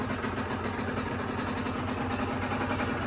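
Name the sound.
50cc motorcycle engine idling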